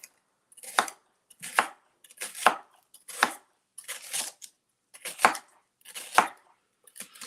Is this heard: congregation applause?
no